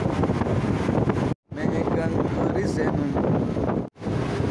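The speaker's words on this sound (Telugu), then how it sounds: "మధ్యాహ్నం 12:30-1కి చల్ల గాలి వస్తుంది, చలి పెడుతుంది ఫుల్గా." Cold wind on a road trip from Madurai up to Kodaikanal buffets the microphone in a loud, continuous rush, broken by two brief dropouts to silence.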